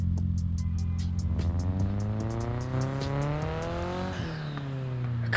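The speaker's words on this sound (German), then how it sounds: "Krasses Turbopfeifen." MINI John Cooper Works Countryman in Need for Speed Heat: engine revs climb steadily with a high whistling turbo tone, rapid repeated ticks over the top, then the pitch drops as the revs fall near the end.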